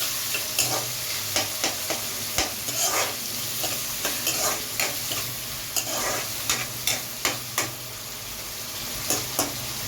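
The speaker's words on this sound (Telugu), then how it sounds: "అందులో ఆయిల్ హీట్ ఎక్కాక ఉల్లిపాయ ముక్కలు వేసుకోవాలి. ఒకసారి కలిపేసుకోండి." Sliced onions frying in hot oil and being stirred, with a steady sizzle broken by repeated sharp scraping strokes of a spoon against the pan, close and alone.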